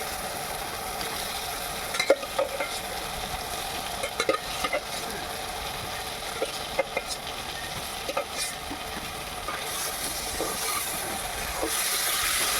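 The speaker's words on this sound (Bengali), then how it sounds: "এখন আমি মিষ্টি কুমড়া আর আলু ভাজাটাকে দিয়ে দিচ্ছি।" Fried pumpkin and potato stirred into sizzling spiced oil in a frying pan, with a steady background sizzle and scattered scraping and clinking of a spoon against the pan.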